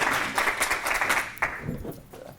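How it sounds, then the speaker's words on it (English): An audience applauds a speaker at a 2016 conference talk, a moderate burst of clapping that fades within a couple of seconds. "Please give a round of applause."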